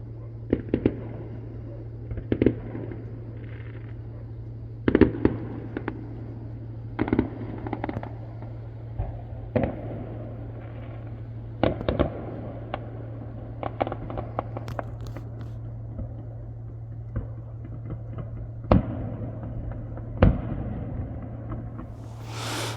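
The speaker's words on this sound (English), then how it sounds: "massive fireworks going off" Fireworks bursting in the distance off the North Wales coast: repeated sharp bangs and crackles at irregular intervals over a steady low boat engine hum.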